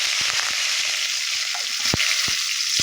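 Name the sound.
mustard seeds and urad dal sizzling while tempering in oil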